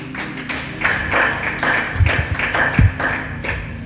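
A church congregation claps in a loose, irregular rhythm, a string of close, crisp hand claps with occasional heavier thumps underneath, continuing steadily without speech.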